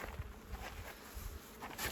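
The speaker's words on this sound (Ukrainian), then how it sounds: "багато бджоли" Honeybees buzz around a fresh frame of young honey pulled from a strong hive, a soft, steady hum of many insects at close range.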